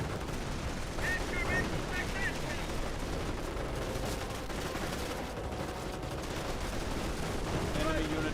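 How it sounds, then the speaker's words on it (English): Quad half-track machine gun in Company of Heroes fires away in a dense, continuous battle din, its rapid bursts buried among other gunfire and explosions over a steady loud wash. "still got this quad half track firing away"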